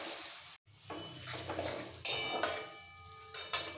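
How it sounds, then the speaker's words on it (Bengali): Chopped onion fries in a pan for pav bhaji, soft sizzling broken by a brief silence and several sharp metallic scrapes and clinks of a spatula against the pan. "এই পেঁয়াজটা খুব বেশি ভাজবো না"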